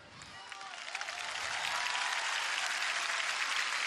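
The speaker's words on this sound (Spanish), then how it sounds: "Queremos dar el primer aplauso, antes que todo," Audience applause at a comedy show in Talca, a dense crowd clapping that builds from moderate to loud and holds steady throughout.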